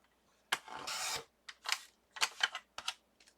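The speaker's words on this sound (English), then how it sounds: "I'm just gonna trim a little bit off the bottom." A paper trimmer blade slides through paper in several short, close strokes, one longer rasping pass followed by quicker bursts, with no voices.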